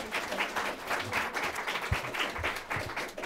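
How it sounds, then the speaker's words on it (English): Audience applause at a policy event on US strategy in the Indo-Pacific, steady dense clapping from a room of people throughout, moderately loud with no speech over it. "why don't we have a round of applause for everyone who adjourned?"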